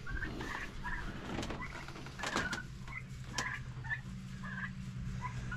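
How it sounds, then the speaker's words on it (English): Turkeys out on grass pasture call in bursts of gobbling and clucking, fairly near, over a steady low hum from a farm tractor. "Take a look at these turkeys here."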